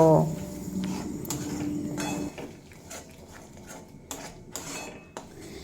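A metal spatula clinks and scrapes in a pan while masala paste with cashew and poppy seed is stirred and fried, busy and fairly loud at first and then quieter, lighter scraping.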